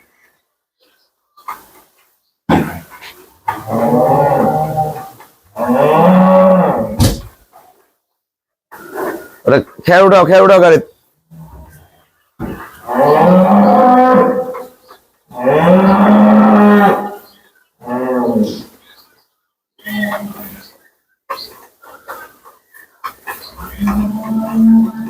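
Dairy cows moo loudly nearby, several long drawn-out calls spaced across the scene, with people talking between and around them.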